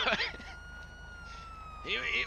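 In a video game roleplay, a police car siren holds a steady wail at moderate level while short bursts of speech break in at the start and end.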